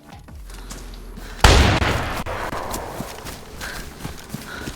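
A single loud, booming gunshot like a shotgun blast in the survival video game DayZ, erupting suddenly after quiet ambience and trailing off into a long, echoing reverberation.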